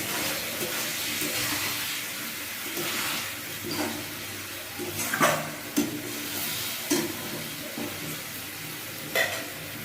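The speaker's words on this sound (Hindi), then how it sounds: "मसाले को अच्छे से भून लेंगे कम से कम 7 से 8 मिनट तक।" Spice masala with potatoes sizzles steadily in a pan while a spoon scrapes and stirs through it, with occasional louder knocks over the constant frying hiss.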